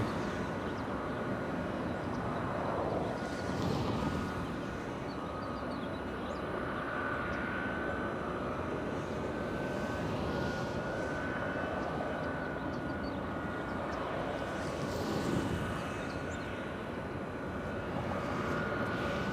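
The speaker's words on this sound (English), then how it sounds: "we have Delta's 848 flying in from Portland" Delta airliner arriving at Los Angeles International Airport from Portland, a steady whining jet engine drone with a persistent tonal hum, moderately distant and continuous, no talk over it.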